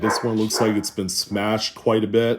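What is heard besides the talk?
dog barking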